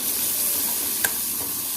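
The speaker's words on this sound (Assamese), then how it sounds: "পিঁয়াজখিনি মই এতিয়া ৰঙচুৱা হোৱালৈকে ভাজি থাকিম আৰু লগত এটা কেঁচা জলকীয়া দি দিছোঁ" Sliced onions and a green chili fry in oil, a steady close sizzle with one brief clink of a utensil partway through.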